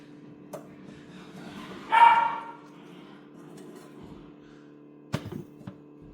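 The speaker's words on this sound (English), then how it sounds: "The dogs are playing, they're very loud" Pet dogs at play indoors let out one loud bark near the middle, with a few fainter yips and whimpers before and after against a quiet kitchen background.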